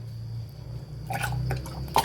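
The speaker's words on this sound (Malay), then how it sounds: "Okey, kita masukkan santan ni dalam tin ni." Coconut milk is poured into a tin for a corn pudding, a short wet splashing and squishing of liquid that starts partway through and runs close and clear to the end, without talk.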